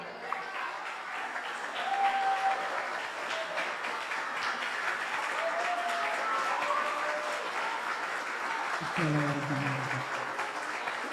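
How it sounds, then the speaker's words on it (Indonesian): A seminar audience of school students gives sustained applause welcoming a speaker, a steady wash of clapping that lasts several seconds while voices rise and speak over it near the end. "Tepuk tangan yang meriah."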